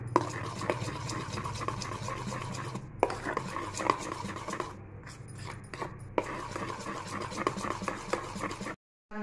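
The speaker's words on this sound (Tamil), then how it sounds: "டெய்ரி மில்க் சாக்லேட் போட்டு நல்லா மிக்ஸ் பண்ணியாச்சு" Dairy Milk chocolate is stirred into an ice-cream mixture in a bowl, with quiet repeated scraping and clinking strokes in bursts, broken by short pauses and one abrupt silence near the end.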